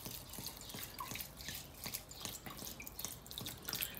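Water pouring and dripping into a pot of lamb shanks set to soak, a steady close trickle with scattered drips and splashes, no voices.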